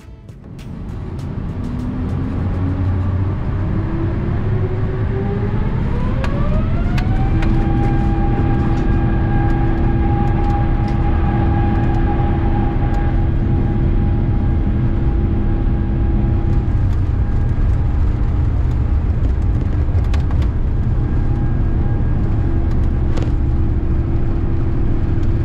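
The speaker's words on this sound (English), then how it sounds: "Lining up on runway 9 left, our pilots advance the thrust levers and away we go." Delta Airbus A350 with Rolls-Royce Trent XWB engines taking off from runway 9 left in Atlanta, heard from the cabin: a rising whine climbs to a steady loud roar that holds throughout, with no talk.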